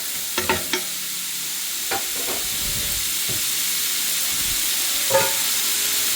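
Onions and smoked turkey being stirred in a pot for collard greens, with a steady sizzle and hiss under a few scattered spoon scrapes and clinks.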